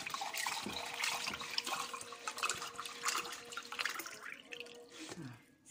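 Water pouring into a clay water jar, a steady watery stream with trickling and dripping that runs on continuously and close by, fading slightly at the end.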